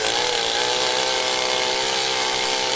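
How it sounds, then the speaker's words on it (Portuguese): Chainsaw cutting a notch into a log for a log cabin build, a loud, sustained high-pitched motor whine held steady at full throttle, close and alone. "Estou a marcar com um lápis para depois cortar com a motosserra."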